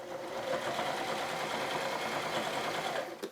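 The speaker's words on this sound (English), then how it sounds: "I'm going to use just a straight stitch." A sewing machine runs a straight stitch through two layers of denim, a steady, even mechanical whir that holds close and loud without pause, with no voices over it.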